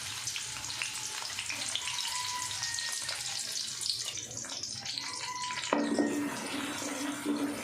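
Two medium onions frying in oil in a kadhai, giving a steady close sizzle and bubbling hiss with faint clinks, no voices.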